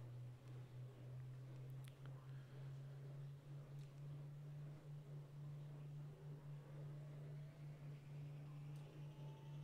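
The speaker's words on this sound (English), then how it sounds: "I'm going to go up to flight and I'm going to start engines to running." Aircraft engines spooling up in the X-Plane 11 flight simulator, a steady low hum under a faint hiss with soft rising whine tones, constant and quiet throughout, no talking.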